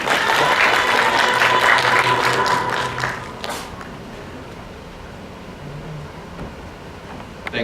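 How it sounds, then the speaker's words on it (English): Conference audience applauding a keynote speaker, loud dense clapping for about three seconds that quickly fades to scattered claps and room noise. "Please give a round of applause for Mr. Only."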